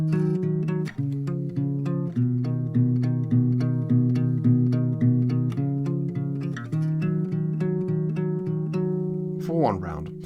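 A guitar plays the melody of a song over a chord accompaniment, a steady pattern of plucked notes close to the mic that ends with a final strum and the strings ringing out.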